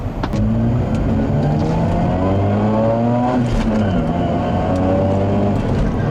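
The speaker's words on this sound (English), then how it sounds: "It's almost like an electric motor whirring noise when you get up in the high revs." A 2004 Mazda RX-8 with a six-speed manual and 238-horsepower rotary engine revs high with a smooth, whirring, near-electric tone, loud and steady throughout, its pitch climbing and dipping with shifts.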